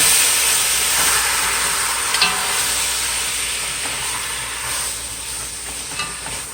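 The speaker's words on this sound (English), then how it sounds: "The food make when it's a sizzle." Chicken feet for Jamaican brown stew sizzle loudly in a hot pan, a steady hissing fry with occasional stirring clinks.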